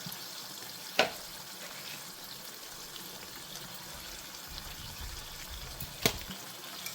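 Curry in a pan with tamarind pulp, turmeric and salt being stirred, low wet bubbling and soft frying hiss with two sharp scrape clicks of a utensil, close and quiet, no voices.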